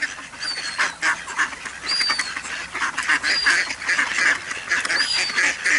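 Ducks quacking and honking from a nearby flock, calls overlapping continuously with high chirps above, no voices.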